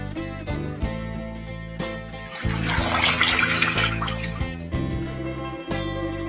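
Dandelion leaves being rinsed in a kitchen, with a steady stream of tap water running and splashing for several seconds. The water swells louder in the middle and stays continuous throughout, with no talking.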